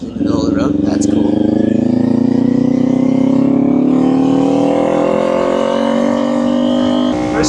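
Motorcycle engine revving up through first gear toward 3,000 to 5,000 RPM while out on the road, a steady loud drone rising in pitch across the run, with a person talking over it.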